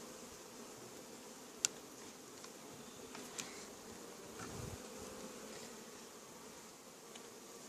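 Honey bees hum steadily at an open hive, a constant droning buzz with a few faint clicks and knocks.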